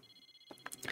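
A cell phone ringing with bright electronic beeps that begin about halfway through after near silence. They repeat in short bursts and grow louder toward the end.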